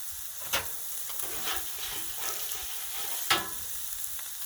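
Oil sizzles on a flat griddle while chicken fried rice is cooked, a steady soft hiss broken by a few sharp scrapes or clinks, moderately close, with no talk.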